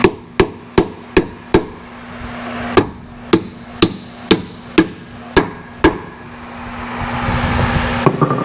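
Sharp metallic hammer strikes on a 1972 GMC 3500 wrecker ring out one after another, about a dozen hits at a steady pace, then a rising mechanical rumble takes over.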